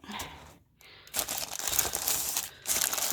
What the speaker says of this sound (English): sorry for all the crinkling